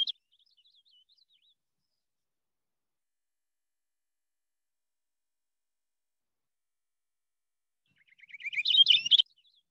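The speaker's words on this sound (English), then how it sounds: "you want to hear the purple finch?" Recorded purple finch song played back, a faint brief chirp at the start, then silence, followed by a louder warbling burst of song near the end, with no talk.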